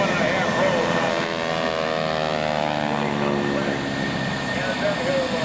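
A loud aerobatic propeller airplane roars close past at an airshow, its engine drone shifting in pitch as it sweeps by, with an announcer speaking over the noise.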